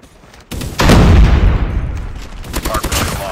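Gunfire in the mobile shooter Call of Duty Mobile during a hardpoint match, a loud close burst of rapid shots swelling into a dense booming roar that trails off into scattered fainter shots.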